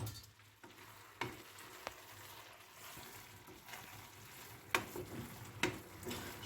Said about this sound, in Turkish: Evet arkadaşlar tarhanamız suyunu çekmek üzere. Bu şekilde kavrulacak.